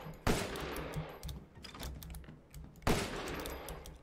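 Two sharp, loud gunshots about two and a half seconds apart ring out in the Resident Evil Village video game, each followed by a brief decaying tail over a quiet background with small clicks.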